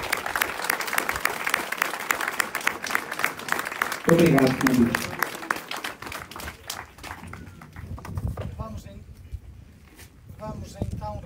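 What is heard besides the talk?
applause in church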